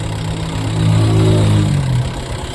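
A tuk-tuk engine idles close by with a steady mid-pitched putter, its tone rising briefly in the middle before settling back to a smooth, even run.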